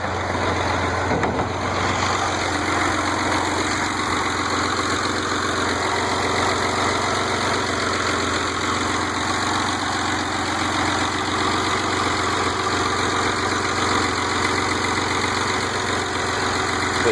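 The six-cylinder engine of a 1986 BMW 325e idles steadily and evenly for the whole stretch, a constant low hum with a faint rattle and no voices.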